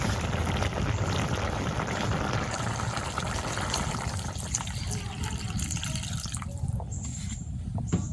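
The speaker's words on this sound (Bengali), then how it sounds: "এখন চলে পানি দিয়ে দিই।" Water pours and splashes into a pot of sautéed sweet bottle gourd in a steady rush for several seconds, then tapers to drips and small clatters.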